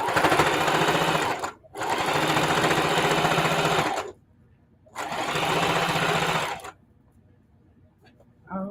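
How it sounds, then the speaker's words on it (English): A domestic sewing machine stitches in the ditch around pieced quilt fabric for a scrappy table runner, running in three close bursts of steady, rapid whirring with short pauses between them. "What I'm doing is sewing around the perimeters of this diamond that's formed by all these pieces of fabric."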